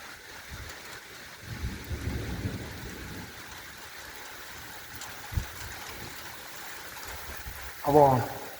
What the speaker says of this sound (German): ich wollte noch die paar Donnerkracher drauf kriegen